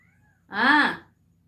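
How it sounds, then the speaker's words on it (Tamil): A house cat gives a single clear, drawn-out meow close by, rising then falling in pitch over about half a second, with quiet room ambience before and after. "எங்க வீட்டு பூனை மா அப்படின்னு கூப்பிடுது."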